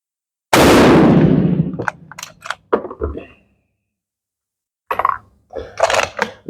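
An Enfield No5 rifle firing reloaded ammunition: one loud, close gunshot with a decaying roar, followed by metallic bolt clacks and clicks, then a pause and more handling clatter.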